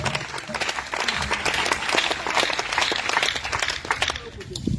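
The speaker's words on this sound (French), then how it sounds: "On acclame Priscille de Jésus." Church congregation applauding a visiting sister, a dense wash of clapping from many hands across the room, with voices mixed in beneath.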